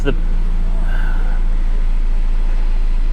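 A 2013 Dodge Dart idles just after a powertrain swap, a steady low engine hum holding throughout with a brief rising whine near the start, close and fairly loud.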